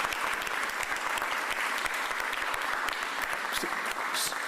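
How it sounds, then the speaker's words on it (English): Audience applause at a mayor's press conference, steady close clapping from a modest crowd that continues evenly throughout. "Big round of applause."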